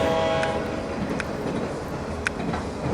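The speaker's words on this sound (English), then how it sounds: "Oh, those noisy trains." Trains roll past in TrainStation 2, a constant clattering rumble of rail wagons with a few brief horn or whistle toots punctuating it, loud and close, with no talking.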